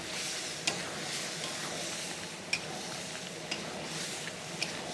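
Lamb karahi gravy for Shinwari dumba karahi sizzles steadily while being stir-fried in a wok, with a few faint metallic ticks of the spatula against the pan.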